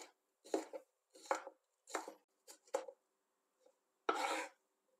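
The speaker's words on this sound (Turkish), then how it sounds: "Ortadan ikiye bölerek iri olarak doğruyorum salatalıklarımı" A knife cuts unpeeled cucumber into large chunks on a board: six or seven crisp, separate chops with short gaps, close and clear against near silence.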